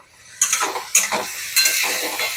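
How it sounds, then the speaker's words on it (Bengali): Bengali spice paste (masala) for a sour-and-spicy bata fish curry frying over low flame with a splash of water, with a few sharp scraping stirs over a steady close sizzle and no talking. "এবার এই মশলাটা ভালো করে ভেজে নেব"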